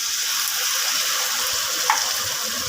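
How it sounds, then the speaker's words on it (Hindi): Water poured into a pan of sugar for sweet and sour raw mango chutney, a steady loud rushing pour that runs through the whole stretch. "इसके साथ ही हम लोग डाल देंगे 1/3 कप के करीब इसमें पानी"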